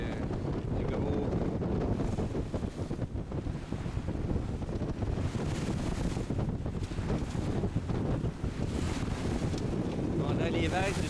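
Ocean waves from a passing trawler's wake slap against a sailboat under sail in strong wind, a continuous roar of wind buffeting and water wash with no pauses throughout.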